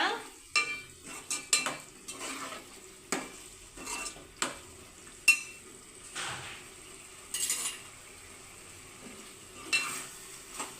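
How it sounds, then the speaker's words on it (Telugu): Chicken curry being stirred in a pan after chili powder goes in, with repeated spoon scrapes and clinks against the pot over a faint simmering sizzle, in irregular bursts. "కారం వేసుకుంటాతో టూ మినిట్స్ అలా కలుపుకుంటే కర్రీ అనేది రెడ్గా వస్తుందన్నమాట"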